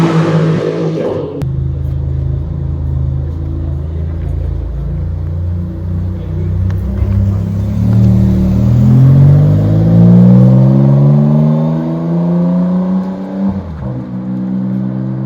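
Maserati GT2 race car engine on the short, twisty Modena circuit, a loud steady rumble that revs up and climbs in pitch through the gears, close and continuous with a brief drop near the end.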